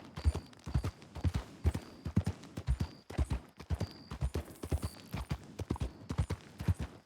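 Horse hooves clip-clop at an even walking rhythm in a western role-play video game, loud and close, a steady run of paired hoofbeats with brief pauses, no talking.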